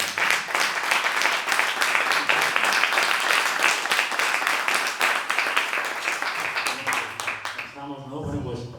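Loud, dense applause from an audience at a book presentation, sustained for several seconds before tapering off as a voice begins speaking near the end.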